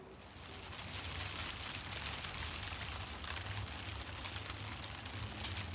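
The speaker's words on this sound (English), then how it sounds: "you can probably hear the rain has started just as I decided I was going to film" Rain beginning to fall in a garden near a polytunnel, a steady broadband patter and hiss that continues evenly throughout without any talking.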